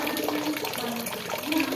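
Water runs steadily from a household tap, a constant splashing hiss, with a voice speaking faintly over it.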